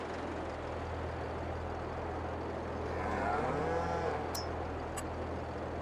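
Cattle mooing in a modern cow barn in the Farming Simulator 22 game, one drawn-out moo over a constant low machine hum, followed by a couple of faint clicks.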